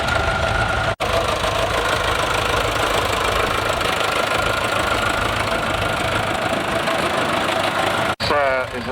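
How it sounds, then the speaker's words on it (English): A Fordson Major diesel tractor at a steam rally runs in a steady, loud, knocking idle close by, with brief cut-outs near the start and end. "This is a Fordson Major diesel owned by Mr. Bethke"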